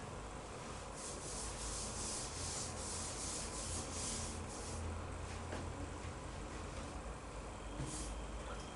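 A classroom board being wiped clean of writing, a steady unbroken rubbing and scrubbing that runs for several seconds at moderate level without any voices.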